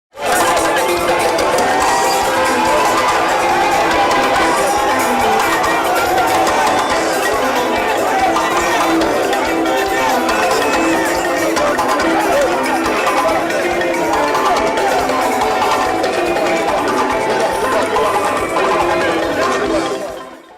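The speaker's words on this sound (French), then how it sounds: "sous les acclamations d'un public conquis" A large crowd cheers loudly and steadily at an outdoor celebration where the Guinean head of state performs the Mamaya dance, with dense voices and hubbub filling the whole stretch without a break.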